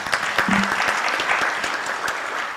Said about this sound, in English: Can we give them a serious round of applause?